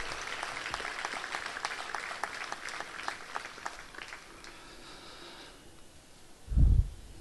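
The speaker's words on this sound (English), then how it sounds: "give a big applause in praise and thanking the Lord" Congregation applauding during a Holy Mass, a dense patter of many hands clapping that fades out, followed by a brief low thump near the end.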